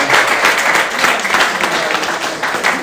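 A church congregation claps for the Lord after a prayer, a dense, loud burst of hands with rhythmic pulses as the clapping falls into a beat, continuing throughout without speech.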